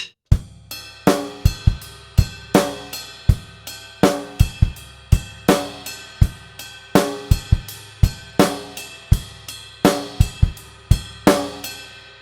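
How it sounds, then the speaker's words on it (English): A full drum kit groove: ride cymbal eighths, snare backbeat and punchy bass drum kicks in a steady repeating pattern, close and loud. "And then we've got to add the bass drum rhythm as well."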